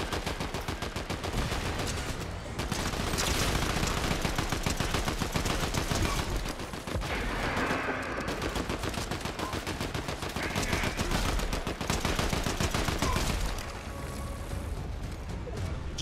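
Rapid automatic gunfire from a heavy-recoil weapon in the Fortnite game, with long continuous bursts of shots broken by brief pauses, loud and close.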